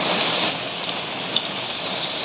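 Steady rain pours down in a dense, hissing wash, close and constant, with a few brighter drips standing out briefly.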